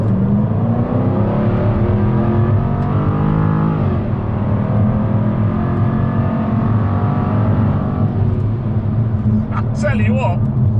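Jaguar F-Type P450 pulls hard on full throttle in sport mode, a steady loud engine drone building without letup, with a person talking over it.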